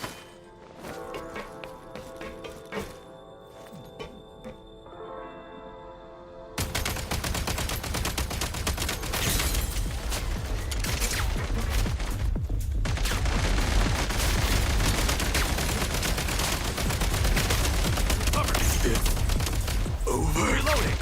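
Dense rapid gunfire and bursts of shooting from the video game Genshin Impact, quieter game sounds at first and then continuous loud fire with a game voice mixed in.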